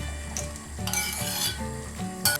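Sauce with corn and canned beans bubbles and sizzles on low heat in a pan while a utensil scrapes and stirs, with a few sharper clinks of metal against the pot.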